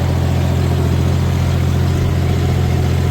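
A tractor engine runs steadily in a sugarcane field, a loud, close, even low rumble that holds without change throughout.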